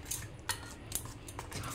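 A spoon whisks patishapta pitha batter in a bowl, giving several faint metallic clinks against the bowl's side in an uneven rhythm, quiet and close.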